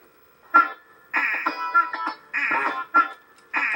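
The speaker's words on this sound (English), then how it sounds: "it's freaking the chicken song" Glitched music from the Um Jammer Lammy rhythm game, playing the chicken song: choppy, repeating bursts of tonal, quacking-like sound that cut in and out in short stuttering chunks, fairly loud with no talk.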